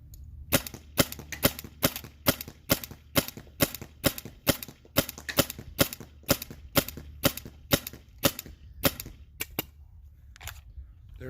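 A First Strike HALF Pint paintball tank driving an EMF100 fires a steady run of about twenty sharp, loud shots at close range, each a crisp crack followed by a short pause, with a few extra pops at the end.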